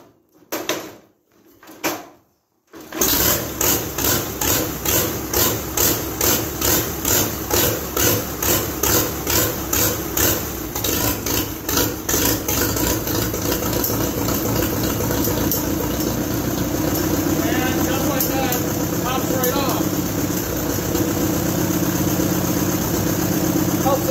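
A 1953 Allis Chalmers CA tractor engine sputters alive after a cold hand start with a few uneven coughs, then settles into a steady, loud, close idle with an even rhythmic chug.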